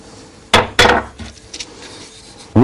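A chisel cuts into a wooden gingerbread mould, making a few sharp, close wooden strikes and scrapes, two in quick succession and another after a pause.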